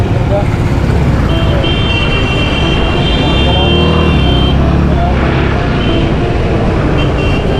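Traffic roars along a busy bypass road, with car horns tooting now and then over a loud, constant wash of engines and a voice talking nearby.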